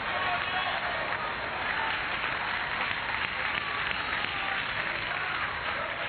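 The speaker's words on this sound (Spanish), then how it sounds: "¿Cuántos le dan un aplauso a Cristo en el día de hoy?" Church congregation applauding, a steady, dense wash of clapping that continues evenly for six seconds, moderately distant and muffled.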